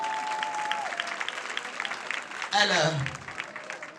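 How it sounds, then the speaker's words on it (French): Applause breaks out from an audience at a Christmas event in Koffikro, Côte d'Ivoire, dense steady clapping throughout, with a voice speaking briefly in French over it partway through. "On applaudit s'il vous plaît"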